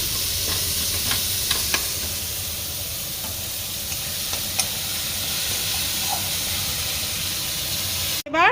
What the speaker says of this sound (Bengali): নারকেলটা কিন্তু খুব কড়া করে ভাজবো না